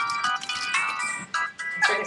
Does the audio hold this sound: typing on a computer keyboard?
no